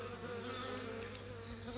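Honeybees forage busily around a hive amid spring blossom, making a dense, continuous buzzing hum that stays steady and fairly close throughout, with no voices present.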